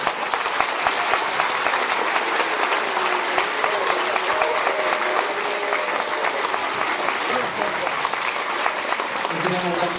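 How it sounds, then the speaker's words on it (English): Sustained audience applause fills the room at a late-night show, dense steady clapping throughout, loud and continuous with light crowd noise mixed in. "How about a nice round of applause for this?"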